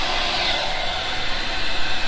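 A hair dryer blows steadily on alcohol ink art, a loud, close, continuous airy roar with slight fluctuations and no pauses.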